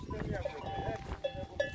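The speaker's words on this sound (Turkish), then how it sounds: "Bakın arkadaşlar bu koyun." Sheep and lambs kept in a crowded pen, with a few short bleats rising over steady background noise and people talking nearby.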